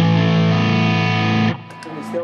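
Electric guitar driven through a Masotti OD Box overdrive pedal on its central shape setting: a thick, distorted chord rings loudly for about a second and a half, then cuts to quieter decaying notes.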